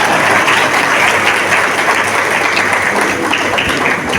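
Loud, sustained applause from a crowd at a weavers' community federation event marking National Handloom Day, dense and steady throughout with no clear break.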